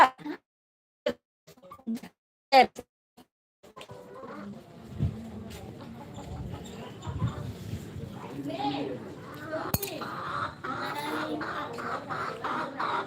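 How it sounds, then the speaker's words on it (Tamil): Chickens cluck intermittently nearby, short sharp calls at first, then mixed with people talking and farmyard bustle. "கோழி முட்டை விட்டுதா"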